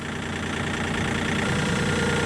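KIOTI tractor engine idling in extreme cold, a steady close mechanical chugging with a slight knock, alone and constant for a couple of seconds.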